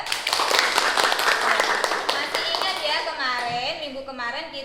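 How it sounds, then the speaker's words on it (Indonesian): Students in a classroom clap their hands in a brief burst of applause that fades into a teacher's voice speaking. "Tepuk tangan untuk Mbak Syahwa."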